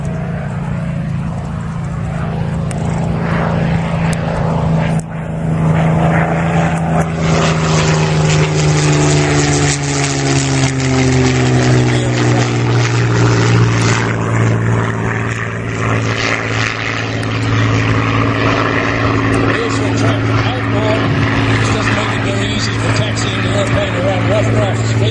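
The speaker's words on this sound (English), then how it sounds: "Here comes John again from the East End. Gear down." A Supermarine Spitfire propeller fighter passes low over an airshow with its gear down, a loud droning engine roar with a pitch that falls as it goes by, while a commentator talks over it.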